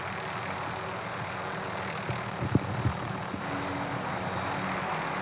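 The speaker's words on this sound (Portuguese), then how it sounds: "O helicóptero tá bugando, ah é!" Helicopter in Call of Duty: Modern Warfare, a steady low rotor and engine drone holding throughout, with a few brief thumps and clicks in the middle.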